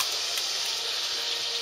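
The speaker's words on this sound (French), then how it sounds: "vous pouvez entendre mon beurre qui fond" Butter melting in a hot pan, a soft, steady hiss and faint bubbling sizzle heard close up and unbroken for a moment, with no talking.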